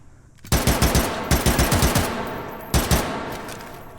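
Loud automatic gunfire in the shooting game H3VR, a close burst of rapid rhythmic shots followed by a second short volley and a few lingering echoes, with no voices.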